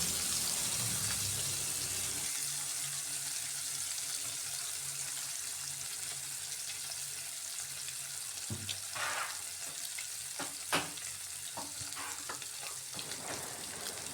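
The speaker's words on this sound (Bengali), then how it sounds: "ওপর দিকটা ওইভাবে কড়া করে ভেজে নেব মাছে" Oil sizzles and crackles steadily as fish fries close by, with a few light clinks and scrapes of utensils toward the end.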